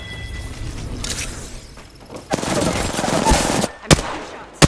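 Gunfire in Apex Legends crackles in rapid automatic bursts, with a long stretch of sustained firing followed by sharp separate shots near the end, loud and close.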